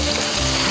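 Chopped onion hitting a hot frying pan and breaking into a loud, dense sizzle that lasts under a second, close up and with no voices.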